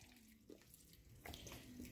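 Hot water runs from a tap into a sink full of soaking dishes, a faint steady stream with brief splashes and clinks.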